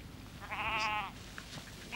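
A Wicklow Cheviot sheep, a medium-wooled breed from moderately bleak terrain, lets out a single clear, wavering bleat at close range, alone against quiet outdoor background.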